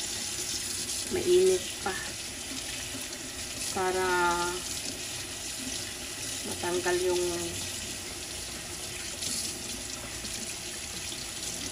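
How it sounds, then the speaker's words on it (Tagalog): Boiled meat being washed under a running kitchen tap, a steady stream of water with brief splashing bursts, while someone talks over it. "Ayan, hugasan natin ulit."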